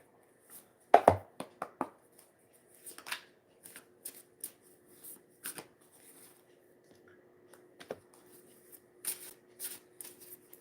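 Ancestor oracle cards being shuffled by hand: close, crisp riffling flutters and soft slaps in irregular bursts, with quiet gaps between them.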